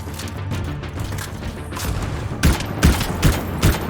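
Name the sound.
scout rifle gunfire in the video game Anthem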